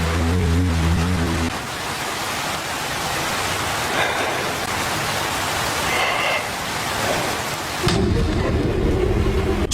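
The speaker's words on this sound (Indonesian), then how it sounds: "saat hujan sedikit reda" Heavy rain pours steadily during a short film set on an alien planet, with deep rumbles of thunder rolling underneath and a louder, low crash near the end.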